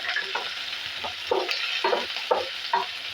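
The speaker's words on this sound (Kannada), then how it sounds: "ಹಾಕ್ಬಿಟ್ಟು ಚೆನ್ನಾಗಿ ಇದನ್ನು ನಾವು ಫ್ರೈ ಮಾಡ್ಕೊಳ್ಳೋಣ." Onion, green chillies and curry leaves fry in oil in a pan, a steady close sizzle broken every half second or so by a spoon stirring and scraping the pan.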